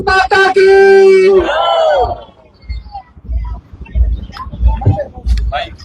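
A political rally crowd shouts a chant in response to a leader's call of "Bharat Mata ki," a loud, drawn-out voice ringing out first, then scattered cheering and murmur from the gathering.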